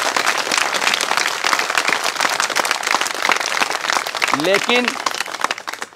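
Thin applause from an audience, scattered hand claps rattling steadily, with a speaker's voice rising over the clapping toward the end.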